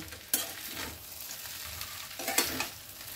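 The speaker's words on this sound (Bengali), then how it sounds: "সব চিজটা আমি দিয়ে দিয়েছি আর একসঙ্গে মিশিয়ে নিচ্ছি।" A spoon stirs cheese through chicken pasta in a sizzling pan, with a constant frying hiss and two louder scraping sweeps against the pan, close and without talk.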